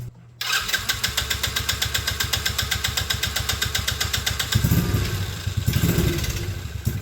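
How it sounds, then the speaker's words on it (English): A small engine idles roughly after its fuel supply is shut off, with flooding and a suspected carburetor needle-and-seat fault. Its steady, close, pulsing run turns lumpier and surges near the end, with no talk. "So I'm pretty sure we figured out our erratic idle issue."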